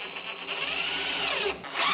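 A power drill drives screws to tack down a wooden skid on a DIY pig feeder built from an IBC tote, its whine steady and close, dipping briefly near the end before surging loud again.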